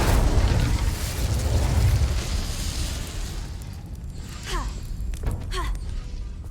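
Fire spell cast in the Hogwarts Legacy video game, a loud whooshing burst of flame with a booming rumble that fades out, followed by a few thin zipping magical sweeps.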